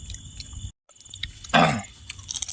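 Crispy masala fish fry is bitten and chewed at a fishing camp, giving one loud crunchy burst midway over a low, steady background rumble.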